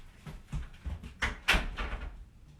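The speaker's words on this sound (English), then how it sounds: "Close the door, baby." An indoor door is pushed shut at home, several soft knocks and thuds building to one firmer close in the middle, quiet and fairly near with light room noise and no talk.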